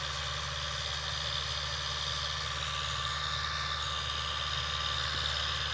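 A tractor engine idles steadily in the open, a constant low rumble with a faint whine that holds unchanged throughout, with no talk.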